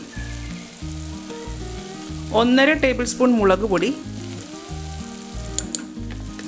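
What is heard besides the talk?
sautéing tomato and spice powders in a pressure cooker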